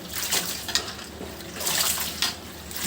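Shrimp and greens are sloshed and rinsed in a basin of water to wash out sand, with repeated splashy swishes and a few light clinks close up.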